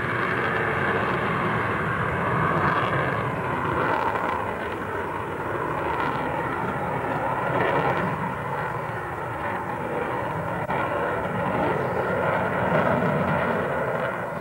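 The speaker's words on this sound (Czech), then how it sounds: "teď je tam forsáž, teď je tam přídavné spalování a podívejte se, vytažení do kolmice" A Czech Air Force MiG-29A at an air show roars with afterburner lit as it pulls into a vertical climb, a loud, steady, broadband jet rumble that holds without break throughout.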